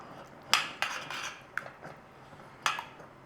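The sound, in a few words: stirring tuna flakes into a pot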